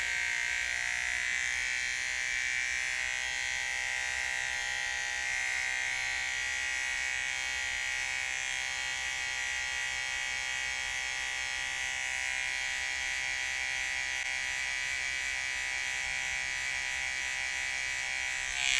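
Electric hair trimmers buzz steadily and continuously at close range while cutting hair for a skin fade, with a constant whine and no pauses or voices.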